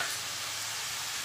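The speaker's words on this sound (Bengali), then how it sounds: "কষানো চলছে" Chilli paneer sizzles and is stirred in a hot pan, a steady, close frying hiss with faint scraping of the spatula throughout.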